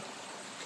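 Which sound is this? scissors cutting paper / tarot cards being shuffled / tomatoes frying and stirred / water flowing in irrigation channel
water flowing in irrigation channel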